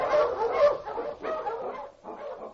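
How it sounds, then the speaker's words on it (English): A husky serving as an Eskimo lead dog barks and whimpers in a run of close, loud, uneven yelps over about two and a half seconds, with no one talking. "The Wonder Dog King, swiftest and strongest of Eskimo lead dogs, blazes the trail through storm and snow"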